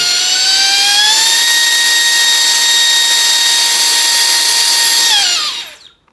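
A steady, high-pitched motorized whine from a Rex-Creations Pad Pal V5 mattress inflator pump runs loudly and close, its pitch rising slightly early on, then winding down and stopping.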